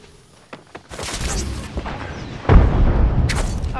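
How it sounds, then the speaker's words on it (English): A frag grenade goes off in the Apex Legends battle royale shooter, a muffled boom followed by a louder burst and rumbling gunfire-like crackle, heavy and close, with a brief voice in the mix. "Frag out."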